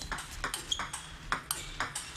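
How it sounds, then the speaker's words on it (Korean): Table tennis ball struck during a serve in a professional Korean table tennis league match, a series of sharp, brief ticks repeating in a quick rhythm, moderately loud against quiet hall ambience. "이번에 김동현의 서브"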